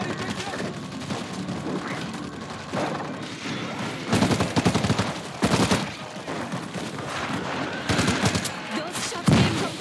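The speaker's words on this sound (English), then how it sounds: "Those shots came from the highway." Gunshots in the zombie shooter World War Z: repeated bursts of automatic fire, with louder clustered volleys rising over a constant din of battle. A voice speaks briefly amid the shooting.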